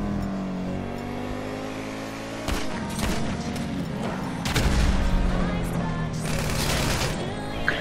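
Gunfire and car engines in GTA 5 Online on a custom map, a revving engine rising and falling with sharp bursts of shots and crashes breaking in, loud and close.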